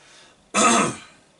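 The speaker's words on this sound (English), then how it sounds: "Try not to cough over all of it." One short, rough throat clearing, close and fairly loud, rises from near-silence and fades within about half a second, with no speech around it.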